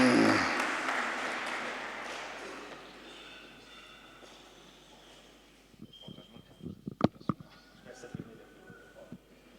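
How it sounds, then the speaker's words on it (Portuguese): Applause at a Portuguese professional football league conference round-table, a broad burst of clapping at the start that fades steadily over several seconds, followed by scattered knocks and handling noises in a quieter room. "Peço uma salva de palmas para todos."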